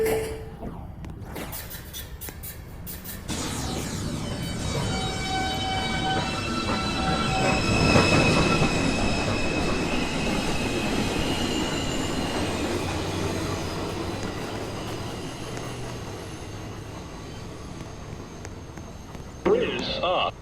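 A Manhattan-bound 2 subway train pulls out of a station at night, a loud rolling rumble with wheel squeal and clatter that builds and then fades, with brief voices near the end.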